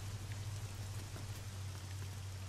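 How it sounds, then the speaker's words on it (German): Steady rain from the video game Arma 3, a dense, continuous hiss of drops falling close around the listener, loud and even throughout with a constant low hum underneath and no talking. "Wenn der Regen jetzt noch lauter wird, dann zerreiße ich meine Ohren."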